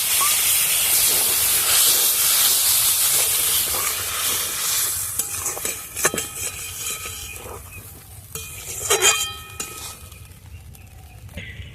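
Water poured onto sizzling potatoes and spice masala in a hot pan hisses loudly as steam bursts, then settles into softer bubbling sizzle with scrapes and stirring clatter.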